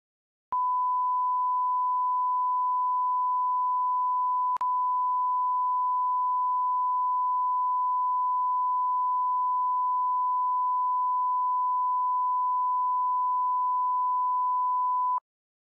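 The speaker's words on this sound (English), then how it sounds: "Let's record a sine wave and look at the waveform" A pure, steady sine wave tone hums at one pitch for about fifteen seconds, starting and stopping abruptly with a tiny click midway.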